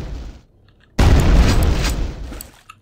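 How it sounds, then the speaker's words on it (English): In the game Quake 2, a thrown grenade goes off after a brief quiet, a loud, deep boom that rumbles and slowly fades, with faint clicks trailing after. "I might be able to surprise this guy with a grenade in the back."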